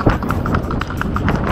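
Hooves of a ridden horse clip-clopping on the ground in a quick, even rhythm, close and clear, with a voice faintly underneath.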